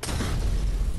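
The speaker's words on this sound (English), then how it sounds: "Got another grenade. Throw it down." A grenade blast in Fallout 4, a single loud, dense low-frequency boom filling the whole second with a broad rumbling wash and no clear decay.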